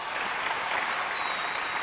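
A studio audience at the Kannada comedy show Majaa Bharatha breaks into steady, close applause, a dense wash of clapping lasting a couple of seconds.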